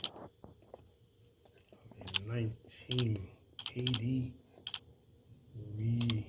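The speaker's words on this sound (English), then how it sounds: "I'm just typing something in." Quick clicking keystrokes on a computer keyboard, fairly close, tapping in short bursts while someone speaks over and between them in a home setting.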